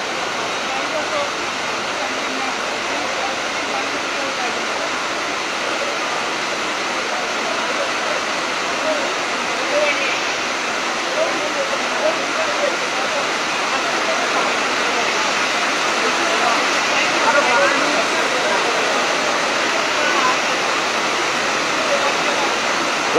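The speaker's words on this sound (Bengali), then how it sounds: "দর্শক, আপনারা বৃষ্টির শব্দ শুনতে পাচ্ছেন," Heavy rain pours steadily onto a street during a student road-blockade protest in Sylhet, a dense, even hiss that holds unchanged throughout with no clear voices above it.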